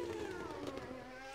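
A strained V10 Formula 1 engine in the PS2 racing game Formula Challenge drones at a steady, sustained pitch with a buzzy, wavering tone, holding level and loud throughout.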